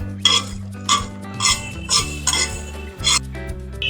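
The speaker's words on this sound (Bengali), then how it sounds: "সর্ষেটা আমি ভালোভাবে ভেজে নেব" White mustard seeds dry-roasting in a pan while a metal spoon stirs them, about seven rhythmic scraping clinks over a low background hum, close and fairly loud, no speech.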